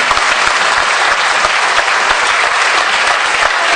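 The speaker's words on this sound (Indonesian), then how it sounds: "tepuk tangan untuk Bapak Ibu semua" A large seminar audience claps loudly and continuously, a thick wash of overlapping hand-claps filling the room at even intensity throughout, with no voices standing out.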